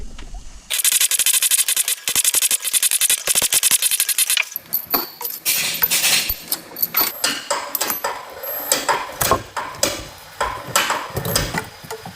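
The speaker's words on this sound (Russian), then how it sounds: "Откручиваем болты ГБЦшные" Cylinder head bolts being unscrewed on a high-mileage Volvo engine, heard as a dense run of rapid ratchet clicks followed by irregular metallic clatter and clicking bursts, close and loud.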